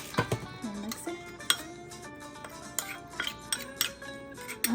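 Lumpia filling being mixed in a bowl, with repeated close clinks and scrapes of a utensil against the dish in an uneven stirring rhythm, fairly quiet, with no talking.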